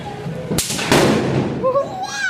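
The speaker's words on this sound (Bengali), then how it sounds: "আরে বাইরে তো বম ফাটছে" Firecracker bombs burst outdoors: two sharp, loud bangs in quick succession, followed by a voice calling out.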